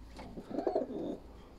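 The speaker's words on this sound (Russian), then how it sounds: "вот это майкопские голуби." Maikop pigeons at a dovecote give a soft, low cooing call, one short murmuring phrase heard close and faint against quiet background noise, with no talk.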